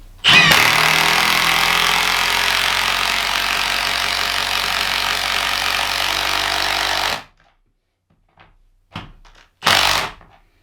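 A Milwaukee M18 Fuel 1/2-inch mid-torque impact wrench with friction ring, set to speed 3, hammers loudly and continuously for about seven seconds and then stops, followed by a few short bursts and clicks.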